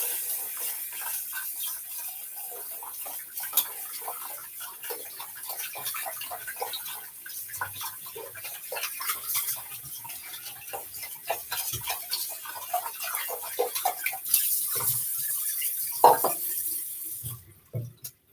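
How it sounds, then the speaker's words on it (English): Tap water runs steadily as a shaving lather bowl is rinsed out, with continuous splashing and small clinks and knocks of the bowl throughout. The water cuts off near the end. No talking. "I'm going to rinse out my lather bowl."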